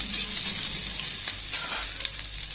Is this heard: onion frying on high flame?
yes